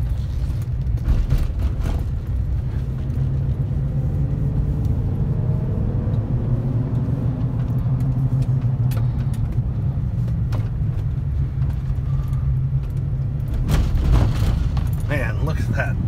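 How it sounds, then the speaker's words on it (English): Tires of a 2011 GMC Sierra 1500 4x4 Z71 pickup give off a steady low road rumble from inside the cab while driving, with someone talking over it. "you can hear those tires. They got a rumble."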